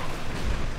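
A single deep artillery shot booms in Company of Heroes 2, a short low-pitched blast heard alone.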